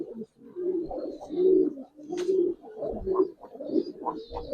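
Giribaz and coloring pigeons coo close by in repeated low, throaty rolling calls, several overlapping in a soft, continuous rhythm with a faint higher chirp now and then.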